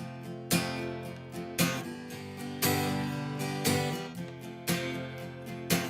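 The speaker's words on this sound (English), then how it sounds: "we could just strum a little bit more aggressively on 2 and 4" Rhythmic guitar strumming with sharper, louder strums accenting beats 2 and 4, about once a second, played alone without talking.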